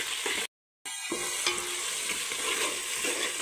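Cumin seeds, cinnamon stick and cloves frying in a pan with fenugreek leaves, a steady broadband sizzle close up, broken by a brief total dropout near the start, then continuing evenly to the end.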